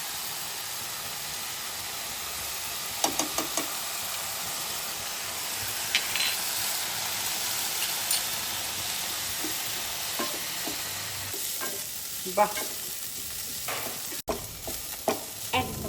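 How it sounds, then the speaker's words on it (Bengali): Bottle gourd peel frying with salt and green chilies, a continuous close sizzle with stirring and scraping taps, a brief spoken word near the start. "হালকা একটুখানি লাউয়ের খোসাটা ভাজবো।"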